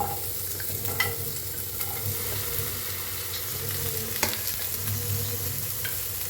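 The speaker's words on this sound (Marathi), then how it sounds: "आता भाजून घेऊया।" Food roasting in a hot pan while cooking Indian egg masala curry, a continuous soft sizzle and crackle with occasional light scrapes of stirring, quiet and close with no voices.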